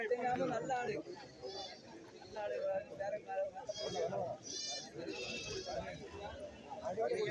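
Goats bleat in short, wavering calls a few times at a busy goat market in Kerala, heard under close, constant talk and crowd chatter.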